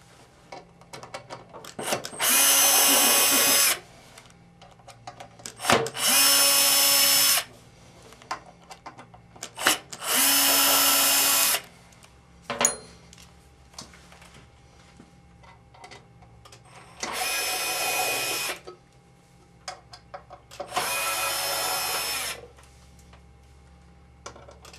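A power drill backs screws out of the motor housing of an MX2 Destroyer in five whirring bursts of a second or two each, separated by short pauses and small clicks.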